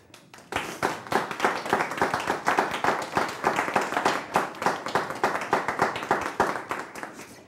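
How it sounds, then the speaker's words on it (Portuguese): Audience applause at a Brazilian television programme, sustained clapping from a room full of people that starts abruptly and carries on evenly at a moderate level for several seconds. "Até gostaria que vocês aplaudissem."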